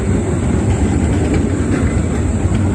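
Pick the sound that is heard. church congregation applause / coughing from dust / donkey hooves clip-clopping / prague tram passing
prague tram passing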